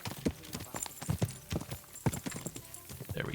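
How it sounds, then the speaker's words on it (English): Horse hooves clip-clop in an irregular, close rhythm in the medieval game Kingdom Come: Deliverance II, a few steps at moderate volume with no voices. "Get off the horse."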